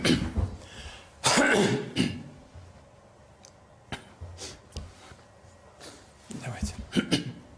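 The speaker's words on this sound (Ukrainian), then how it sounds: "оце він кашляє" A man gives several sharp coughs and throat clearings, some close together and one loud burst early on, scattered between stretches of quiet and brief bits of talk.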